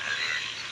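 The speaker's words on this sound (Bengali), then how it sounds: "বৃষ্টির পরের যে ব্যাঙের একটা গ্যাগর ডাক আসে সেটা আসলে অনেক সুন্দর লাগে" Frogs croak after summer rain in Mymensingh, Bangladesh, in a dense, continuous chorus that sounds moderately distant, with no voices over it.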